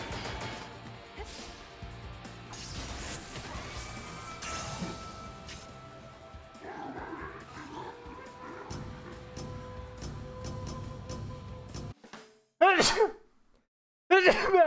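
A person sneezes during play of the video game Hi-Fi Rush, with sharp bursts near the end following busy game music and effects.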